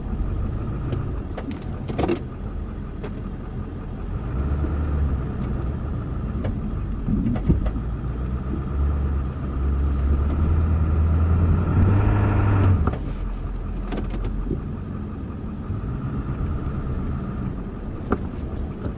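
Several cars roll past on a quiet, snowy rural road, a steady low engine and tire rumble swelling to a peak near the middle and then easing away, with no talking over it.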